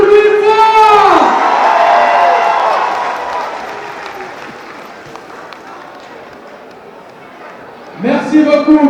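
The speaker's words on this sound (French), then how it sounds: "Applaudissez encore pour lui une fois." Rally crowd in London applauding and cheering for their party leader, a broad wash of clapping with whoops that swells then slowly fades, with someone talking over the start and again at the end.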